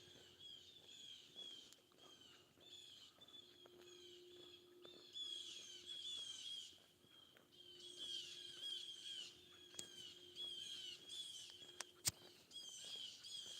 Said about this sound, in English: I hear the birds talking to each other